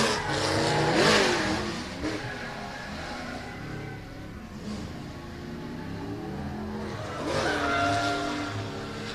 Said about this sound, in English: A little bit of a handbrake pull by Weber halfway through the zone